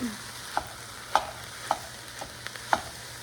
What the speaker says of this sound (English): Brown it up really well